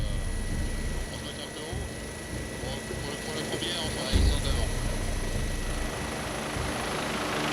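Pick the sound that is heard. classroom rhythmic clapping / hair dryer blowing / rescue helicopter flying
rescue helicopter flying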